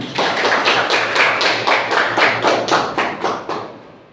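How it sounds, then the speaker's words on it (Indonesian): A classroom of students claps together in a rhythmic, unison pattern of about a dozen loud, evenly spaced beats close by, ending abruptly without any talk. "Tepuk tangan."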